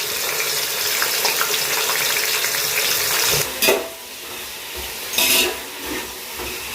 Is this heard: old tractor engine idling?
no